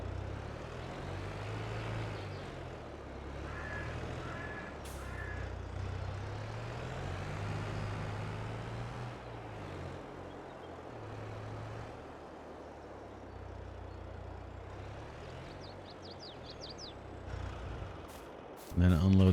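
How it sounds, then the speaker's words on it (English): A Landini tractor engine from Farming Simulator 22 drones steadily at a low pitch, rising and falling slightly in pitch throughout, with a few faint clicks near the end. "Hop in our new little tractor"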